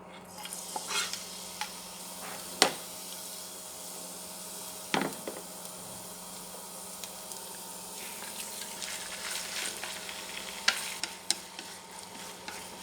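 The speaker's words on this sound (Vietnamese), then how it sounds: "Trong thời gian này mình sẽ phi tỏi rồi xào thịt." Garlic frying and then meat being stir-fried in a pan while cooking carrot corn soup: a soft steady sizzle with sharp scrapes and clacks of stirring at irregular moments, fairly faint and with no talking.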